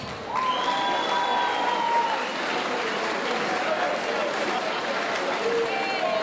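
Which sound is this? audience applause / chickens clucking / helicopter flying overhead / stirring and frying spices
audience applause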